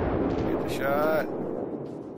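Heavy cruiser New Orleans fires its main guns in World of Warships: a loud, sustained booming salvo with a rising whine partway through, over continuous background game noise and rumble.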